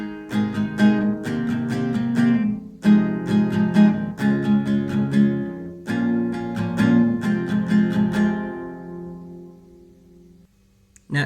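An acoustic guitar strums chords in a steady rhythm with brief pauses between phrases, ringing out and fading at the end.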